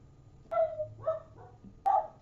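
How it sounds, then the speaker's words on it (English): A female pet dog barks indoors during a tarot card reading: three sharp, fairly close barks spaced across the moment, each one loud against a quiet room with a faint low hum underneath. "She doesn't usually bark in a reading."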